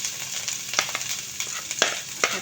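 Garlic and ginger sizzle and crackle in hot oil in a pan, with steady frying hiss broken by several sharp scrapes and stirs of the spatula, close and alone.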